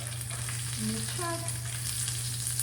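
Salmon pan-searing in butter, giving a steady close sizzle and gentle frying crackle over a low hum, with a couple of brief tonal squeaks partway through.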